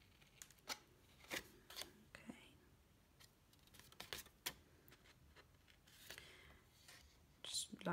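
Sharp scissor snips cut through paper in irregular bursts, close and fairly quiet, with soft rustling and faint whispery sounds between cuts.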